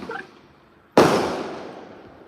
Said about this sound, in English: Firecrackers, it's holiday season. Everybody they enjoy. You hear them?